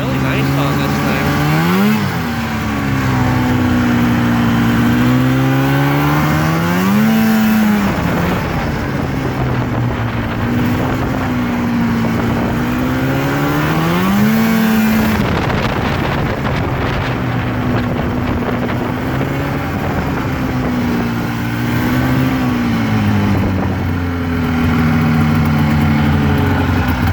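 Fan-cooled 1984 Polaris Indy 400 snowmobile engine idling outdoors, a loud steady two-stroke drone that rises and falls in pitch several times, with wind buffeting the microphone.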